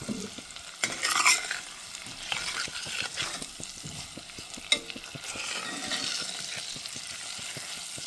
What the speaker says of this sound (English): So let's let this butter melt up.